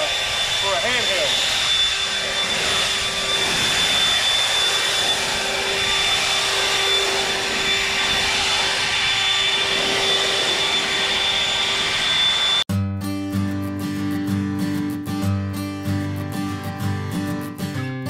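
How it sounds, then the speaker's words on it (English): A Toro 60V handheld battery leaf blower roars at full power outdoors while clearing piles of leaves, a loud steady whoosh for most of the stretch before cutting abruptly to other background sound. "That's pretty good blowing power for a handheld."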